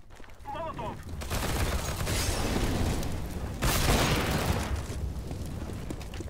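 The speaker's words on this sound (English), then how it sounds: "Molotov!" A thrown Molotov bursts into a sustained roaring, crackling blaze in CS:GO on Dust 2, loud and dense for several seconds, with a second surge partway through and a player shouting over it.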